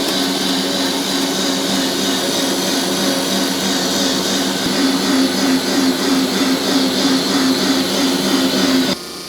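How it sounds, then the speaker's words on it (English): A pipe press machine carrying a lifted pipe slung in chains along its length toward support cradles, a loud continuous mechanical drone with a steady hum and faint rattling, ending abruptly after about nine seconds. "The pipe is lifted and ready to be transported now down the length of the machine to set in the cradles."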